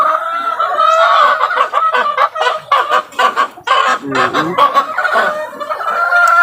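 Chickens cluck in a busy, uneven series of calls with a rooster's crow mixed in, heard close up among backyard fowl.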